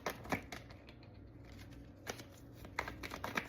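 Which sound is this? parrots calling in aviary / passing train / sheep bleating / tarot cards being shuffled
tarot cards being shuffled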